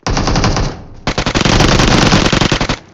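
Rapid automatic gunfire in PUBG Mobile, loud and close, with a long sustained burst, a brief pause near one second, then another dense stream of shots that breaks into short bursts toward the end.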